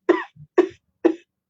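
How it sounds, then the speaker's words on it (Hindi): Three short, sharp coughs from one person, evenly spaced about half a second apart, each followed by a brief soft catch of breath, close and clear against silence. "आपको खांसी हो गई"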